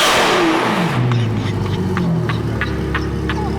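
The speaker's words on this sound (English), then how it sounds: "That's a V12. That's what it should sound like." Straight-piped Ferrari 812 Superfast with a Novitec exhaust and V12 engine, a loud close rev that drops and settles into a rumbling idle.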